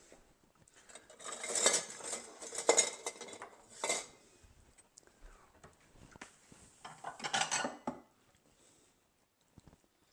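Beef stroganoff noodles being served into a bowl: close utensil clinks and scrapes against the dish in uneven bursts, then quiet for the last two seconds.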